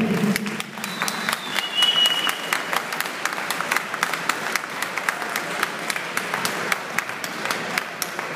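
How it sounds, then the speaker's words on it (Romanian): An audience at a K1 kickboxing event applauds a fighter, sustained lively clapping from the crowd with brief whistles early on, continuing steadily throughout. "Vă rugăm să-l aplaudați, să-l felicitați pentru aceasta."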